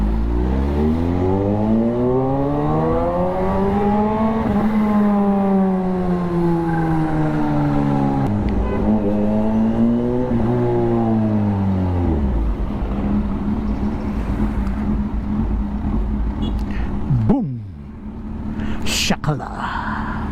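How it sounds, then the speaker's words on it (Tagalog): Steady car engines and road noise in heavy traffic, with a long wavering siren-like whine rising and falling over the first twelve seconds, then a sharp horn or squeal near the end. "Traffic talaga, grabe."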